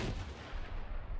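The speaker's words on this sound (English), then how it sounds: "The gun firing." A single heavy gunshot burst from a military video game, loud and boomy with a short rumbling tail.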